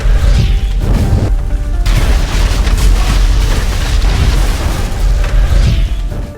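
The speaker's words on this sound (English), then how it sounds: "Marco countered with a grenade." A grenade explodes during a film gunfight, a loud, dense booming blast with heavy low rumble and crashing debris that fills the whole stretch with sustained roaring energy.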